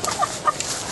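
A chicken clucks beside a solar-powered chicken tractor, a few short, fairly close clucks over a quiet outdoor background.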